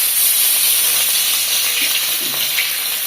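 Food fries in hot oil in a home kitchen, giving a loud, constant, hissing sizzle throughout.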